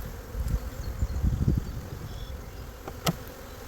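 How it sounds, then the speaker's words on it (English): Dense honeybee buzzing from a crowded, early-season hive that is close to swarming, a steady near drone with louder swells and a few sharp knocks, with no voices. "I would not have expected the hives to have so many bees in them so early in the season"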